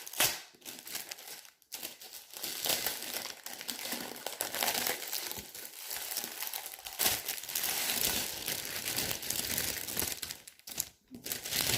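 Sheets of blue glitter scrapbooking paper handled up close, crinkling and rustling in irregular bursts over nearly twelve seconds, with brief quiet gaps.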